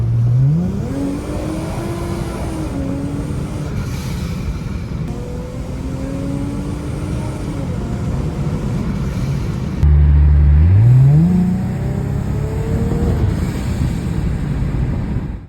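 A supercharged Lexus IS 350 engine revs up repeatedly through the gears, its pitch climbing and dropping, with steady wind and road noise throughout.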